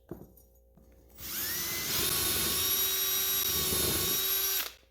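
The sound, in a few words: power drill with cleaning attachment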